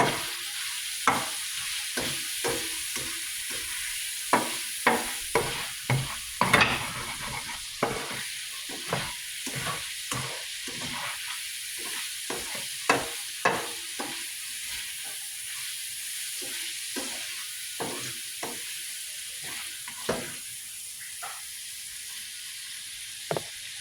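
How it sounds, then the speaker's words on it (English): Potatoes fry in bacon grease with a soft continuous sizzle, punctuated by repeated sharp scrapes and clacks of a utensil stirring them in the pan, close up and without talking. "We're going to use the grease from the bacon for the potatoes for flavor."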